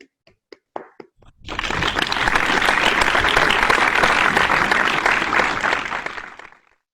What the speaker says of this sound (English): can we have a round of applause to our talented co-host and our enthusiastic contest manager, please?